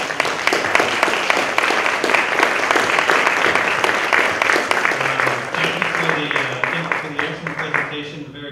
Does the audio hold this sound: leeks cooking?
no